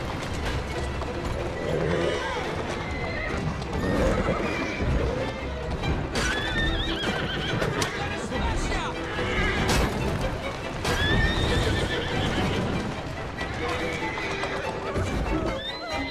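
Horses whinny repeatedly over steady clopping hooves in the video game Assassin's Creed Syndicate, with a person speaking now and then over the busy, continuous activity.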